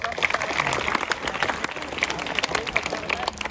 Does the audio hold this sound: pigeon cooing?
no